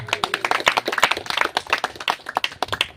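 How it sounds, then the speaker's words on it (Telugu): A church congregation claps hands loudly during a sermon. The claps are brisk and uneven, with a faint murmur of voices mixed in. "చప్పట్లు కొడదాం గట్టిగా"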